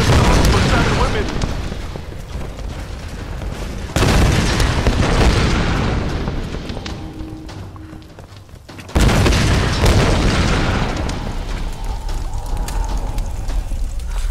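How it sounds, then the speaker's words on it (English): Repeated loud explosions in the video game Tomb Raider Definitive Edition, with deep booming blasts at regular intervals followed by rumbling debris and crackling, and voices talking underneath. "Michael Bay probably had something to do with all these explosions, surely"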